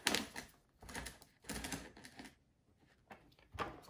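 A Zebra desktop label printer rolls its label media backward, giving several short bursts of close mechanical whirring and clicking separated by brief pauses.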